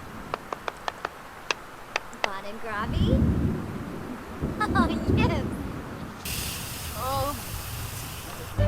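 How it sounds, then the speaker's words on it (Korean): Loud thunder rumbles through a rainy storm in The Sims 4, rolling in low and heavy from about three seconds on, with sharp ticking clicks before it and steady rain hiss. Game speech sounds chirp over it. "천둥까지 엄청 소리가 크게 나고 있어요."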